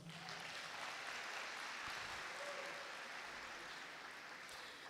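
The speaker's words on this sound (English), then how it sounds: "Can we really give a round of applause?" Faint, distant audience applause at a Free State skills development event, an even wash of many hands clapping, steady and quiet without voices.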